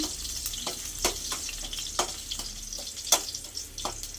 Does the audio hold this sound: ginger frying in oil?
yes